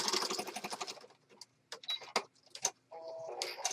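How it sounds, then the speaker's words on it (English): Sewing machine stitching fabric pieces for a folio and pocket: bursts of rapid mechanical clattering separated by pauses, close and fairly quiet. "I'm going to go to the sewing machine now and stitch on all these pieces."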